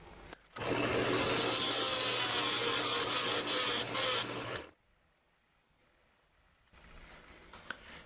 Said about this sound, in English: I'm going to use this Dremel with a medium-sized globe head on it as the thing's turning to create the divot.